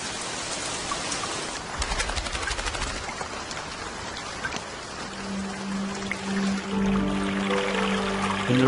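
Steady rain pouring at the end of the dry season, a dense hiss of drops hitting the ground that stays close and loud throughout, with a low tonal hum rising in the last few seconds.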